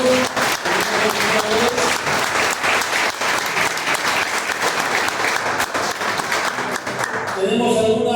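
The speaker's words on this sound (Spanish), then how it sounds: "Un aplauso para todos los amigos" Sustained applause from a congregation at a Spanish-language family church gathering, dense and continuous clapping filling the whole span, with a voice beginning to speak just as it ends.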